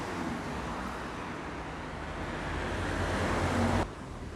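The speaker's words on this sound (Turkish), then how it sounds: "Altından şırıl şırıl sular akıyor." River water flows steadily beneath the Irgandı Bridge in Bursa, a continuous broadband rush heard close and fairly loud with no talking, swelling slightly before dropping off near the end.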